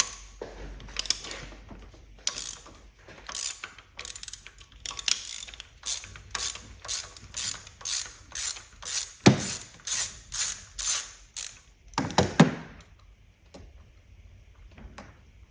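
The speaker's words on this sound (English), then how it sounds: "Standard spark plug socket." A ratchet fitted with a spark plug socket working on a Hyundai i20 1.2 engine, a long series of close, sharp clicks in a steady rhythm with a few louder knocks.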